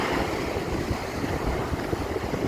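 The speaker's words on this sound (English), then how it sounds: "Them waves are still rolling in though, aren't they?" Sea waves roll in on a 10-metre high tide at Blackpool under strong winds, a dense, steady roar of surf and wind noise with no clear breaks.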